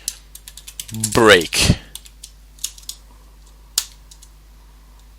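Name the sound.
typing code on a computer keyboard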